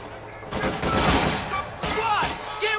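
Gunfire in the World War II strategy game Company of Heroes 2, bursts of rapid shots crackling in clusters, with game voices calling out over the firing.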